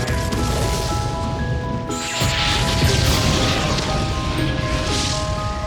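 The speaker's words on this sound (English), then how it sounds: "the black meatballs started exploding one after another" Black meatballs explode one after another in a film scene, a loud, continuous barrage of booming crashes and rumbling debris with a brief cut partway through before the roaring blasts resume.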